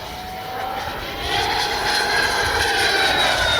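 A Freewing Avanti S 80mm electric ducted-fan RC jet flying outdoors, a loud rushing whine that swells as it passes, close and without talk.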